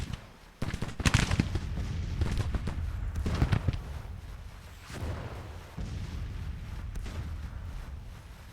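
An artillery battery fires in the American Civil War strategy game Grand Tactician: The Civil War, with several dull, booming cannon shots spread unevenly over a rumbling battlefield background, the loudest near the start and others further off.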